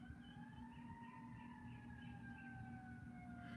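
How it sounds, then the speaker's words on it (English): An emergency vehicle siren wails far off, its two slow rising and falling tones drifting faintly over a steady low hum of quiet porch surroundings, with no voices. "I hear a siren."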